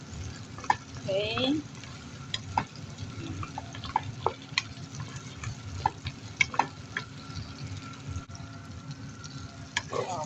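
Meat stirred and fried in a pan until browned, ahead of the spices for an Arabic mashboos, with a steady sizzle under frequent clinks and scrapes of the spoon; one brief word is spoken.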